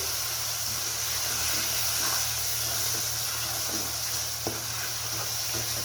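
Ground turmeric, red chilli and coriander frying with chicken in a pan over a medium flame for a chicken and cabbage curry: a constant close sizzle and hiss with occasional soft stirring scrapes, no talking.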